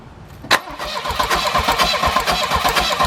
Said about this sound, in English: I'm gonna go ahead and crank it and see if we get in spark